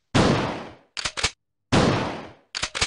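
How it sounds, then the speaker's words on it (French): Two loud gunshots from an audio drama, each a sharp close blast with a long decaying tail, followed by a pair of quick metallic clicks, the pattern repeating with silence between. "Après les coups de feu, l'araignée s'écroule"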